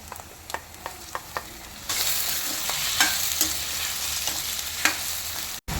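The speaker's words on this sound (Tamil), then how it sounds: "இப்போ வெங்காயம் வதங்கிடுச்சு தக்காளி போட்டுக்கோங்க" Onions and tomatoes are sautéed in a pan for an egg gravy. A few spoon taps come first, then a loud, steady sizzle rises and continues under occasional stirring clicks.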